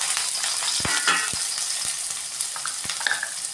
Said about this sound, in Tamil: கடுகு உளுத்தம் பருப்பு நல்லா பொரிச்சதும் ரெண்டு பொடியாக கட் பண்ணி வச்ச வெங்காயம் ரெண்டு பச்சை மிளகாய் சேர்த்துக்கணும்